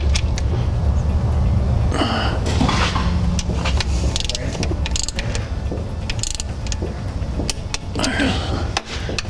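Transmission pan bolts on a 2011-2018 Ford Powerstroke 6.7L with a 6R140 gearbox are torqued to spec, giving rapid ratchet clicks and metallic clanks in bursts, close up, with some handling noise.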